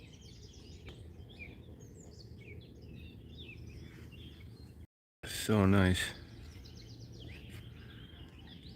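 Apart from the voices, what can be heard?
birds singing by the water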